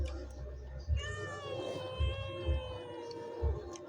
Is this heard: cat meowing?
yes